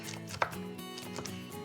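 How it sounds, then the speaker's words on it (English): A knife chops cooked bacon on a cutting board in a kitchen, giving a few soft taps with one sharper knock, close and fairly quiet, with no talking. "I'm chopping it up, and it's gonna be part of the topping"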